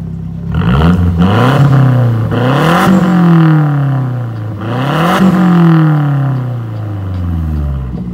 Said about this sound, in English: Here, I'll give you a few revs